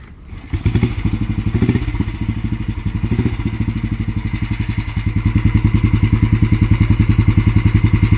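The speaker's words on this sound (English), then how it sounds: "we'll be having a short ride on this motorcycle" 1957 Royal Enfield Bullet 350 motorcycle with an original magdynamo, its single-cylinder engine starting up and then running steadily. The loud, close thumping beat is even and rhythmic throughout.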